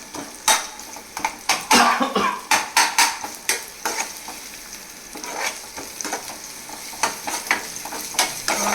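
Garlic sizzles in a hot pan, a busy crackling fry broken by repeated sharp scrapes of a utensil stirring against the pan, close and moderately loud.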